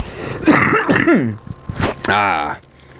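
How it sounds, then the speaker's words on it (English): A person clears their throat with a few rough, gravelly bursts, followed by a longer, voiced rasp, close and fairly loud. "Clearing the throat."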